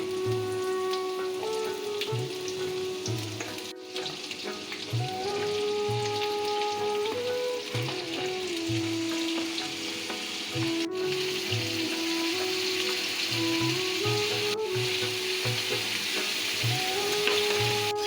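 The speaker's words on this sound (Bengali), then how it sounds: "আমি ধুয়ে রাখা সবজিগুলো একে একে দিয়ে দিচ্ছি।" Vegetables are added one by one to hot oil tempered with panch phoron, two dried red chillies and a bay leaf, for a vegetarian drumstick, potato and brinjal curry. A steady, rain-like sizzle runs throughout, with bursts of stirring and tonal background sounds.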